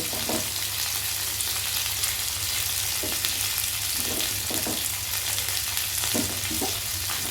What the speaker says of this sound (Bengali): আরও কিছুক্ষণ কিন্তু এটা ভেজে নিতে হবে